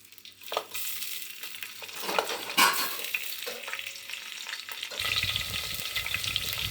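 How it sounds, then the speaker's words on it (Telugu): Onions and green chillies fry in hot oil for a mutton curry, a steady close sizzle with scattered crackles and stirring scrapes, growing denser and louder in the final seconds. "ఉల్లిపాయలు గోధుమ రంగు వచ్చేదాకా కూడా వేయించుకోవాలి."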